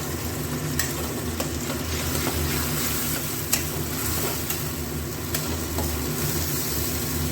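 Tomato paste frying in a pan with garlic, green chilli and ginger paste, giving a steady dense sizzle with occasional light clicks of a utensil, and no voices.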